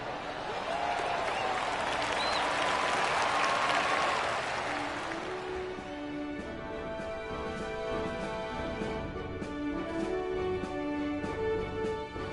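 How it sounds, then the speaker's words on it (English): A golf crowd in PGA 2K22 applauds a champion's win, a loud swell of clapping that fades after a few seconds into a soft, sustained celebratory music bed. "Sometimes you've just got to stand and applaud."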